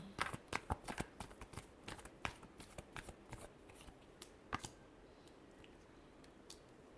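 Tarot cards being shuffled in a quick run of crisp flutters and snaps, loud at first and then tapering into sparser, softer riffles, close by with no voices.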